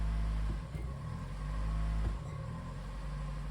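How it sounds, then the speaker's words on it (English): A 1997 Toyota RAV4 engine idles with a low steady rumble, then lugs with a heavy thump around half a second and again near two seconds as the clutch is dropped in gear against the parking brake; no talk. "I have the parking brake on and I'm dropping the clutch in gear to see if the differential moves"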